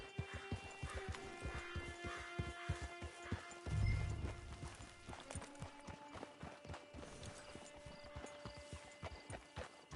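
Hooves clip-clop steadily at a walking pace, close and clear, from a horse in the video game Red Dead Redemption Online, with a low rumble midway and a faint ambient hum beneath.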